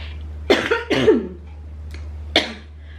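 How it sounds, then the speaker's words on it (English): A few short, sharp coughs up close after choking on food, two in quick succession, then a softer pause and one more cough. "I just choked on food and made me cough"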